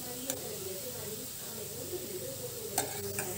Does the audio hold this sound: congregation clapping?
no